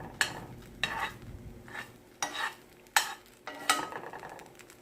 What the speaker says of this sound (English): If you hear sizzling, that means that it's going to work.